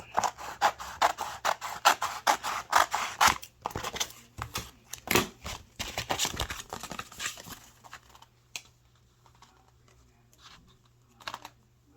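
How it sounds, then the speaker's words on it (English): A cutting machine recuts Oracle 651 clear vinyl laid on poster board, giving dense rapid clicking and scratching passes for several seconds, then thinning to sparse faint ticks against a low steady hum. "I'm going to let that machine recut it"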